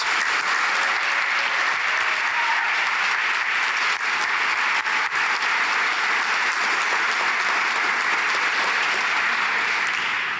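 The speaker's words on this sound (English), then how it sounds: "Can we have a huge round of applause for our teachers and administrators?" A large crowd at a school graduation claps in sustained, steady applause that stays evenly loud for the whole stretch, with no voices over it.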